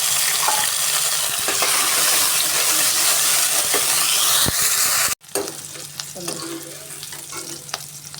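Chopped onions roast in a pan for white sauce pasta, sizzling loudly and steadily with stirring scrapes. The sound cuts off abruptly partway through and returns as a quieter, thinner sizzle.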